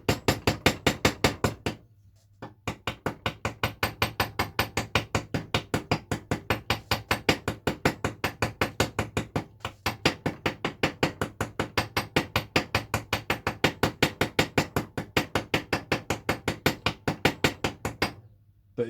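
A hammer strikes rivets with loose wrist action, letting the hammer's weight do the work. The blows are steady, rapid and evenly spaced, with two short pauses, and no voices are heard.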